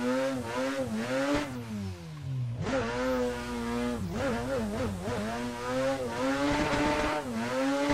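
A Mazda RX8 drift car engine in a racing video game on the Tsukuba Fruits Line touge course, revving hard and continuously with rising and falling pitch, shifts and bouncing limiter rasps, close and loud throughout.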